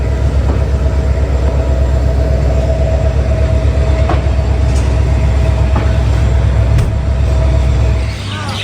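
A passenger train pulls away at night with a loud, close, steady rumble and rhythmic wheel clatter. A few metallic clicks sound along the way, and the noise eases near the end.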